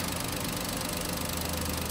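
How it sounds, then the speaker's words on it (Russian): A Toyota 1KR-VET three-cylinder engine idles steadily, a continuous close, loud mechanical rumble with even vibration and no talk. "Двигатель 1КР."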